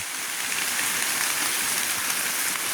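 Steady rain falls on surfaces in a rural village, a dense and even patter that continues unbroken throughout, with no voices.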